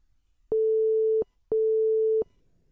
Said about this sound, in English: The oscillator generates a basic wave used in the whole synthesis process later, so we can choose a sine wave